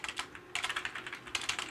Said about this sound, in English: If I could type today.